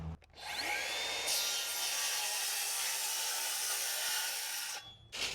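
A cordless Sawzall reciprocating saw cuts through tree wood from a dead lakeside tree, a sustained buzzing, rasping cut lasting about five seconds between short pauses at the start and end.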